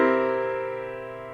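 A dominant seventh chord struck once on piano, ringing with rich sustained harmonics and slowly decaying over about a second and a half, alone.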